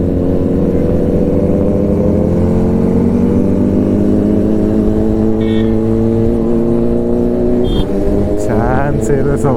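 Superbikes such as a BMW S1000RR, ZX10R, CBR 650R, ZX6R and Aprilia rev their engines loudly and close by, a sustained droning roar whose pitch climbs and shifts, with voices talking underneath.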